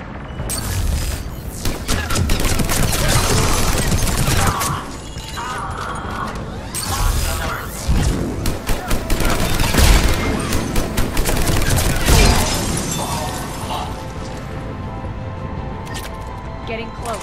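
Heavy booming cannon blasts and rapid bursts of gunfire in a chaotic battle on Omega in Mass Effect 3, loud and layered, with intermittent voices cutting through.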